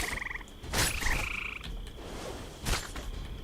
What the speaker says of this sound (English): I have a hard time not killing these poppy toads.